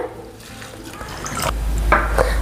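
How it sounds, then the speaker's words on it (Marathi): Water poured into a pressure cooker holding sorghum grain, a steady liquid stream with splashing and dripping that grows fuller toward the end, close by and alone. "सहा वाटे पाणी टाकलं"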